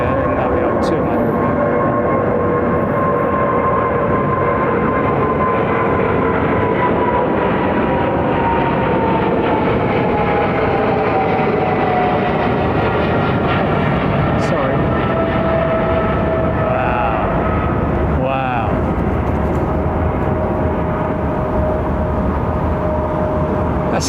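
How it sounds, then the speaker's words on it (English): An airliner fitted with General Electric GE90 engines roars at London Heathrow, a loud, broad, continuous jet rumble filling the whole stretch, steady with slight swells, heard without talk. "That sounds like a very well-used set of General Electric GEs."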